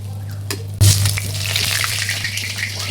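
Hot oil splatters and sizzles steadily in a pan while frying, with a sudden loud burst of crackling followed by continuous close spitting and hissing.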